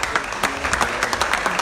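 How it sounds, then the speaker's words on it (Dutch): A crowd claps for two women at a foundation evening in Utrecht, a brief burst of dense, fairly close applause. "geef ze even een applaus aan deze twee dames"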